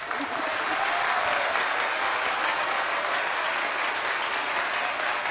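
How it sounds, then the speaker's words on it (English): Sustained, dense audience applause at the Ghana's Most Beautiful 2024 pageant night, the crowd clapping steadily and loudly for the contestants throughout, with no pauses. "I need you ladies to give yourselves a round of applause"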